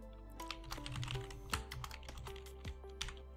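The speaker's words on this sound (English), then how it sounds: "Please excuse my my keyboard sounds. It might be a bit louder because I'm using a gaming keyboard." Keys clatter on a gaming keyboard in quick, uneven bursts of sharp clicks, fairly quiet and close, with no talking over them.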